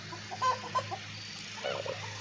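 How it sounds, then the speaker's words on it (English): Roosters in a chicken coop squabble with short, faint clucks and calls in a few scattered bursts over a steady low hum. "Roosters are having an argument."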